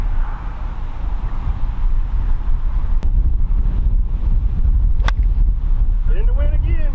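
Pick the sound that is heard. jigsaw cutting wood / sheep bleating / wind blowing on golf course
wind blowing on golf course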